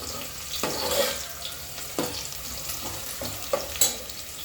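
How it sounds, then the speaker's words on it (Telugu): Onions frying in a pan for chicken pulao give a steady sizzle with scraping stirs at intervals, close and moderately loud, with no talking. "పులావ్ ఉల్లిపాయలు మంచిగా ఫ్రై చేయాలి"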